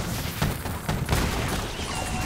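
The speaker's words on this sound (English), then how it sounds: "Powderful explosion clears your field." Cannon explosion from Gangplank's powder attack in the Legends of Runeterra card game, a few loud booming bursts over dense game music and effects, close and full.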